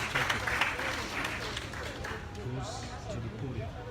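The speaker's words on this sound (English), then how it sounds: "Can we give him a hand clap?" Crowd at a presidential town hall meeting in David Dean Town gives a hand clap for a district commissioner, scattered applause fading into murmuring voices and crowd hubbub.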